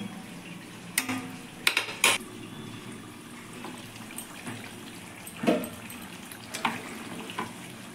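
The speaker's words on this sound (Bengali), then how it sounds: "এবার আমি ভাতটাকে জল ঝরিয়ে নেব।" Water draining off a pot of parboiled rice during homemade chicken biryani prep, a few splashing pours and gurgles over a steady background hiss, with pauses in between.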